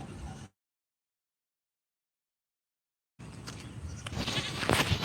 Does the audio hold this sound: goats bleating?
yes